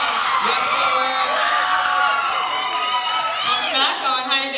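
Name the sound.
audience applause and cheering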